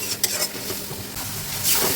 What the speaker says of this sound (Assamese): এয়া মছলাখিনি অলপ ভাজিছোঁ